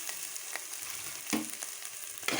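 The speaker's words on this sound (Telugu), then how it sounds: "ఇప్పుడు మటన్ ఇందులో వేసేస్తున్నాం." Mutton pieces frying in hot oil with spices and coriander in a pan, giving a steady, fairly quiet sizzle with a few soft stirring knocks.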